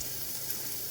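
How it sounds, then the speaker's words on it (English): Meat and a pat of butter sizzle in a pan over a camp stove during a camping breakfast, a steady crackling hiss heard up close for a brief moment. "Oh yeah, sizzle baby."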